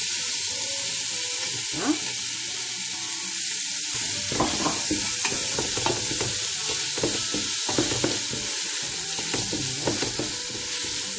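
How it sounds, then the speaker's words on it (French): Onions with spices, herbs and peas fry in a pan, a continuous sizzle broken by repeated scraping and stirring knocks from a utensil, close and fairly loud, with one brief spoken word. "je vais faire revenir mes oignons avec tous les épices, les herbes, et j'enchaîne avec les petits pois"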